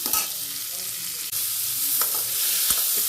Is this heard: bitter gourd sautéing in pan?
yes